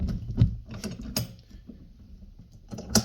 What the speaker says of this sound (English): So when you're tightening the vise down, try not to over tighten it